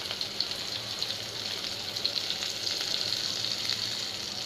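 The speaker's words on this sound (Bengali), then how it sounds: "দেখুন সব কিছু দিয়ে আমি একটু ভেজে নিচ্ছি" Chopped onion and garlic fry in hot oil, a dense, even hiss with crackling spits running steadily throughout, close and with no talk.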